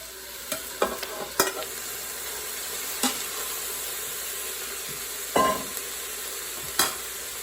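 Ground beef fries with onions and garlic in an Instant Pot under a steady soft sizzle, punctuated by several sharp scraping stirs of a utensil at irregular intervals.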